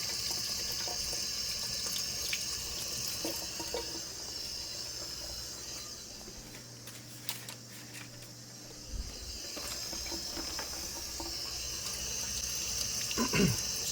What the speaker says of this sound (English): we're gonna get a piece of salmon, kind of wash it